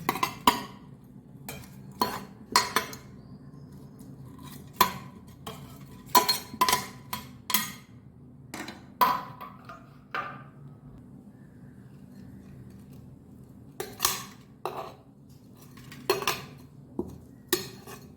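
Steamed ragi semiya is moved from an idli pot into another vessel, with repeated sharp metal clinks and scrapes of utensils against pots in irregular bursts, close and fairly clear.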